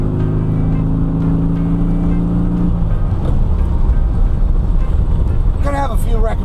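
A 1972 VW Super Beetle with a freshly rebuilt rear brake system drives along the road, its engine drone and road rumble steady and loud throughout, with wind buffeting the microphone.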